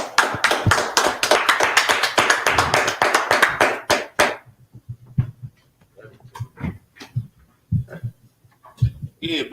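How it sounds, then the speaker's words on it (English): A group of people clapping hands together in a class setting, a dense burst of fast, overlapping claps for about four seconds that then thins to scattered faint taps and murmurs. "Clap it up."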